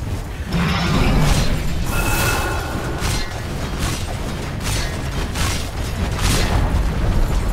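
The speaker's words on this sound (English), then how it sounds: "Dire's middle tower has fallen." Dota 2 tower being destroyed in the middle lane, heard as a steady run of deep booms, crackling bursts and whooshing impacts over dense, continuous battle noise with no talking.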